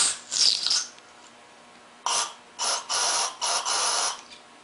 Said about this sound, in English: So I'm going to put the straw right on the seat, spray through.